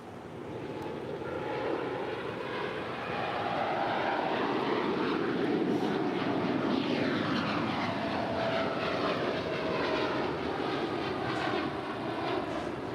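A United heavy jet airliner departs LAX with a sustained, powerful engine roar that swells slightly and stays strong throughout, with slowly shifting tonal sweeps and no voices over it.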